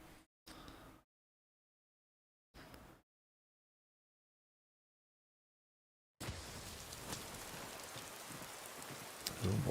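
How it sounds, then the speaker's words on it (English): Rain falls in Skyrim, a steady broadband hiss that arrives after short bursts and silent gaps and then continues loud and unbroken to the end. "Oh boy, it's raining."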